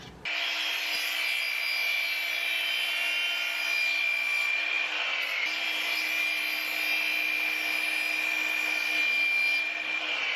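Close, steady cutting noise as a saw works through PVC pipe, one continuous rasp lasting throughout with no voices.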